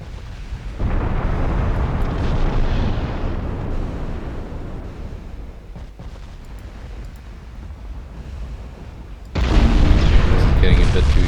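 Warship guns firing high-explosive shells in the naval strategy game Ultimate Admiral Dreadnoughts, heavy sustained booming and rumbling salvos, loud throughout with a sharper, louder burst near the end.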